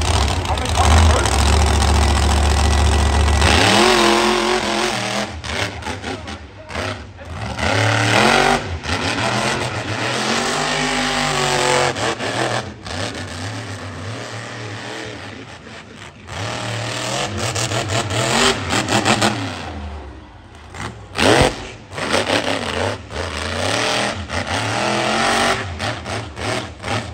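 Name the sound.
monster trucks revving and racing over jumps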